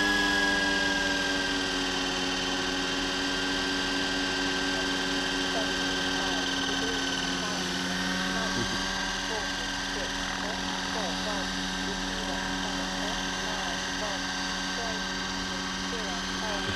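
A Mercy Air aircraft engine held at reduced RPM during a flight test, a steady, even droning hum with a strong tonal whine that stays constant and close for the whole stretch.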